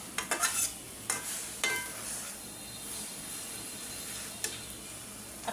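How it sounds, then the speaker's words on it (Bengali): Dried fish curry simmering in a pan gives a soft, steady sizzle and hiss, broken by several sharp scrapes and clinks of a spoon stirring against metal, quiet and close with no voices. "একটু জাল জাল করে রান্না করছি।"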